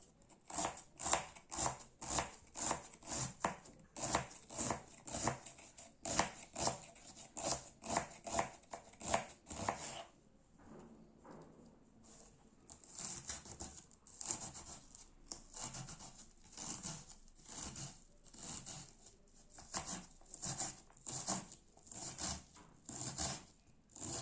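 A knife finely chops onion on a board for kısır, with quick rhythmic taps in steady bursts, a brief pause midway, then more rapid chopping, close and fairly quiet.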